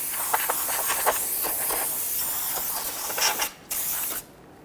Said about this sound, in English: go ahead and spray it down with some solvent